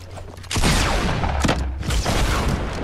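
Fortnite weapon fire during a building fight, a loud burst of shots and booms kicking in suddenly after a quiet start and continuing in heavy close blasts, with no speech over it.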